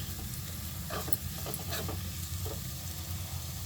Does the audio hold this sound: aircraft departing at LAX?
no